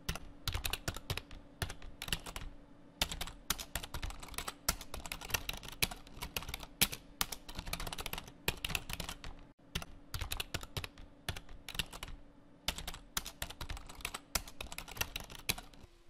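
Rapid, continuous clatter of keys on a computer keyboard as code is typed for a Shopify theme, close and steady with brief pauses, no voices.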